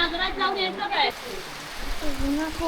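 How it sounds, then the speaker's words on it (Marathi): Heavy rain pours outside a village house in the Konkan countryside at Kotapur, Rajapur, a steady broadband hiss that takes over after a moment of close talking and continues under occasional voices. "ए धो धो पाऊस पडायला लागला"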